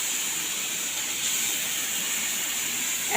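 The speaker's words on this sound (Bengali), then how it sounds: "তেল গরম হয়ে গেছে দিয়ে দিলাম মাছ" Salt- and turmeric-coated fish sizzles as it goes into hot oil in a pan, a steady close hiss that holds evenly throughout.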